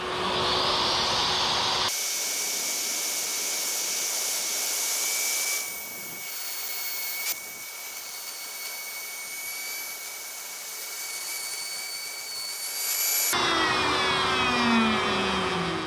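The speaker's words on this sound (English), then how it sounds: "I'll be using a 3/8 straight bit in my router, a piece of plywood with some double-sided tape as a guide to cut the channels" A handheld router fitted with a 3/8 inch straight bit cuts screw channels in plywood for a table saw extension wing, a loud steady high whine running alone through most of the clip with brief shifts in pitch and level as the cut proceeds.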